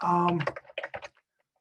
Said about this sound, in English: typing in here, Joe Smith